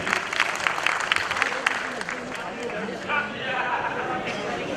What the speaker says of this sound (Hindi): आपसे गुजारिश करता हूं कि जोरदार तालियों से इस्तकबाल कीजिए